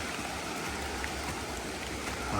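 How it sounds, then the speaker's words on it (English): A small cascade on a river stream along the Whitewater River in North Carolina gives a steady, even rushing and babbling of water, with no other sounds over it. "There's a little cascade right there."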